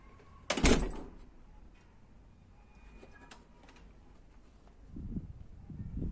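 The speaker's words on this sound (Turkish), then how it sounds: "Kapatıyorum kapıyı." A single sharp thud of a door shutting, followed by quiet room tone and some soft low rustling near the end.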